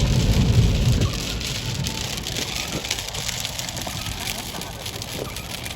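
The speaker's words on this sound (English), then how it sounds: "It sounds like it's dry, but it's raining. Big drops." Big raindrops patter steadily on a surface, a constant close hiss with heavier low rumble in the first second, and no voices over it.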